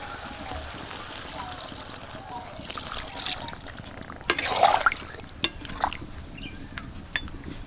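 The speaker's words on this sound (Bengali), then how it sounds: "এখন আমি এর মধ্যে জল দিয়ে দিচ্ছি।" Water poured into a pan of spiced cooking red deshi chicken in a kadai, a soft trickle and splash rising midway, then a few sharp clinks and stirring sounds over a faint background hiss.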